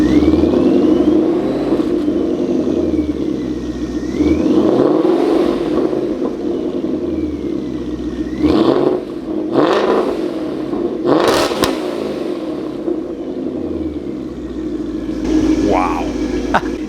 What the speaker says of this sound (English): Alright, let's do some revs.